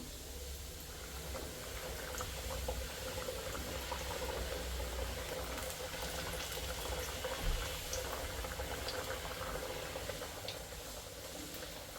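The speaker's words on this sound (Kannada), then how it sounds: "ಈಗ ನಾವು ಒಂದೊಂದೇ ವಡೆಯನ್ನು ಮಾಡಿ ಎಣ್ಣೆಯಲ್ಲಿ ಬಿಡಬೇಕು" Maddur vada, onion fritters made with chiroti rava, rice flour and onion, frying in hot oil: a steady, dense bubbling sizzle that holds evenly from start to finish, with no talk over it.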